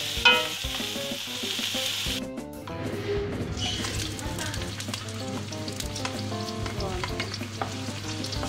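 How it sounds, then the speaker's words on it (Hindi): Cauliflower fries in oil for aloo gobi with a loud, continuous sizzle, while a spatula scrapes and stirs it around the pan close up and the crackle keeps running throughout. "ये देखिए गोभी फ्राई हो गई है, ये तकरीबन आधा हो गई है।"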